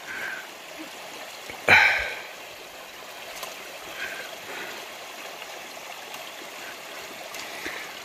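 A creek runs along the Pacific Crest Trail, its water flowing in a soft, continuous babble. One brief, sharper knock or splash stands out near the start, and no one speaks.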